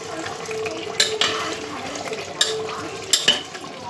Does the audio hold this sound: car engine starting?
no